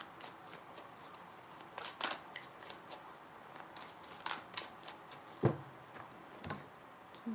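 Tarot cards are shuffled in quick riffling bursts, soft papery flutters and taps repeating close by in a quiet room.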